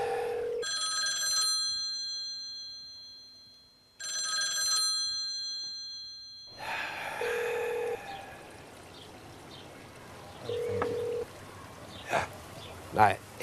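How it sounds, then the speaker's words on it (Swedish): During an outgoing telephone call, the ringing tone sounds in two long bursts separated by a short pause. Muffled room noise and a few brief beeps follow. "Nu ringer jag honom."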